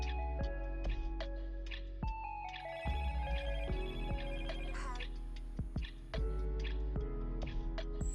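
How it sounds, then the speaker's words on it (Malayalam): A telephone ringtone in a Malayalam short film plays a repeating melodic pattern, close and steady for the whole stretch. The call goes unanswered. "ആരും എടുക്കുന്നില്ല ഒന്നുകൂടെ വിളിക്കുന്നേ"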